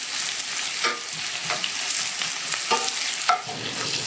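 Onions frying in butter in a pan, browning with a steady bright sizzle and a few soft stirring scrapes, close and continuous with no talk.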